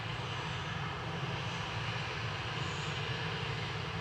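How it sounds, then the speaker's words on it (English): A retro-liveried Aer Lingus airliner taxis out at Manchester Airport, its engines a continuous, even roar at close range with no voices. "The retro Aer Lingus is taxiing out, or at least pushed back."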